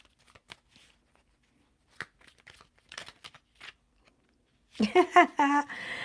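Tarot cards shuffled in short, soft rustling bursts through the first part, followed by a person talking near the end.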